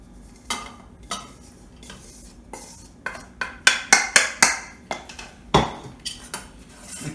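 Homemade playdough ingredients, dry mix with green coloring and vegetable oil, are stirred in a pot: a series of sharp scraping strokes and clinks of a utensil against metal, bunching into quick repeated bursts midway.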